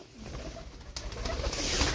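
White Turkish tumbler pigeons coo in a brief, close, low murmur over a couple of seconds, with faint background noise.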